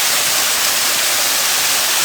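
Water rushes and roars steadily, a dense continuous flow beneath a spot in a hill-town setting, loud and unbroken with no voices over it.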